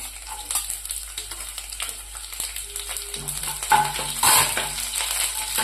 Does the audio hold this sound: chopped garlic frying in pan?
yes